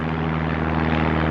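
A World War II bomber circling over Japan on the Nagasaki atomic bomb mission, a loud steady droning propeller engine roar with a constant low hum and no break.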